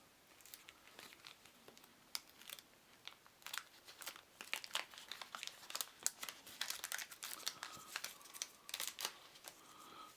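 Wax wrapper of a 1988 Topps Alf Series 1 trading card pack being opened, close, dense crinkling and crackling bursts that grow busier and louder toward the end.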